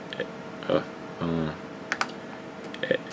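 A computer keyboard used for making beats gets several separate key presses, sharp scattered clicks, while a brief tonal sound and a short burst of voice also appear.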